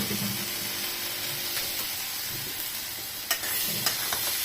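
Boiled chickpeas fry in a pan while being stirred, a steady close-up sizzle with a few sharp scrapes and clicks of the utensil near the end.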